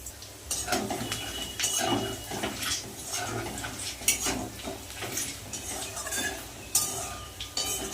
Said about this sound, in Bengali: রসুনটা হালকা ভাজা হয়ে এসছে